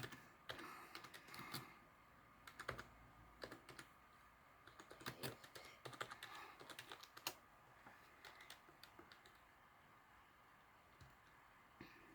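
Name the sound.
typing on a computer keyboard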